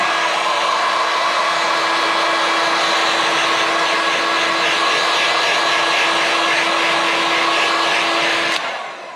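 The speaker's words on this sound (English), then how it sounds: "we just use a heat gun just to speed up the healing process" A heat gun blows over paint protection film on a 2022 BMW S1000R motorcycle, a loud steady whooshing hum with a constant tone that cuts off abruptly near the end.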